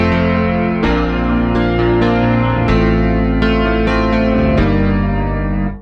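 A Yamaha CP70 electric grand piano plays sustained chords with rich harmonics, loud and close, with a chorus-like shimmer and no voices over it.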